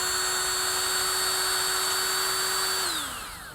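Drilling out lawn mower carburetor jets, a steady high-pitched power-drill whine held close and loud for about three seconds, then winding down in pitch as the motor slows.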